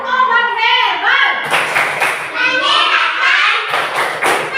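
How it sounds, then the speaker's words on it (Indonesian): Schoolchildren in a classroom chant a clapping rhyme about herbal medicine, voices in unison broken by loud rhythmic group claps and thumps. "kita tepuk dulu. Tepuk obat herbal."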